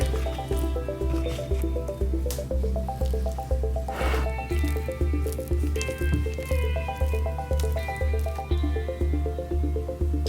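Cake batter for a vegan cake squishes and drips as it is poured into a pan, a soft wet sound heard under a steady, rhythmic musical beat throughout.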